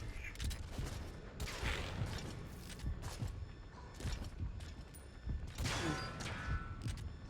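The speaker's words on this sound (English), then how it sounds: "We're firing at people." Gunfire in the video game Metal Gear Solid V: repeated bursts of shots crackle across the whole stretch, dense and fairly loud, with mechanical clatter between volleys.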